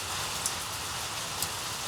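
Steady rain drums on a tin roof at a hunting club, a constant close patter with a couple of slightly louder drops and no voices.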